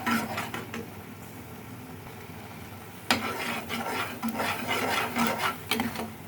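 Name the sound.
stirring gravy in a pan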